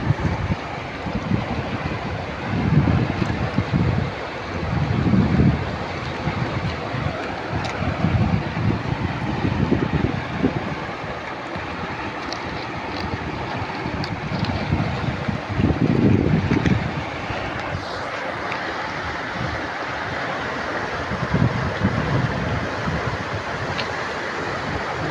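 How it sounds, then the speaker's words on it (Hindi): Fast floodwater surges over and around stones, dislodging rocks, a loud continuous roar with wind buffeting the microphone and swelling bursts of heavier rushing throughout. "बहुत ही तेज़ सैलाब आ चुका है"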